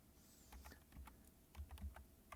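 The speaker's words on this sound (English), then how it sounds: "If I can type." Computer keyboard typing while entering a randomize statement in code, a few quiet separate keystrokes at an irregular pace, close and soft, with no talking.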